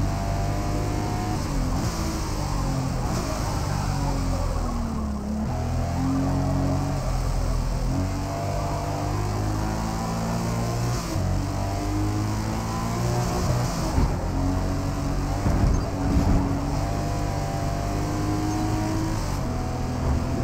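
Toyota GR Supra engine in Forza Motorsport revving loudly and continuously, pitch climbing and dropping across several gear shifts, close and steady with no talk.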